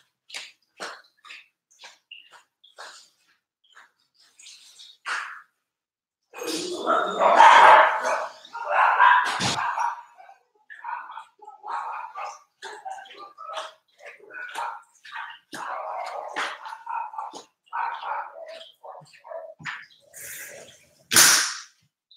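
Household dogs bark in loud, irregular volleys of sharp barks, close by, with short pauses and one longer, denser stretch of barking.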